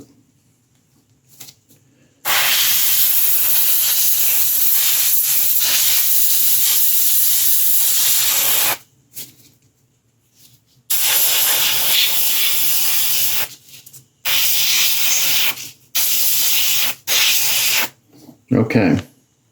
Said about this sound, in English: I'm going to do the same thing and go back and clean my airbrush and mist on the base flesh tone